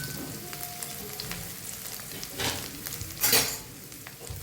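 Peanuts and curry leaves frying in a pan are stirred, giving a continuous close sizzle with a few louder scraping sweeps of the spoon across the pan.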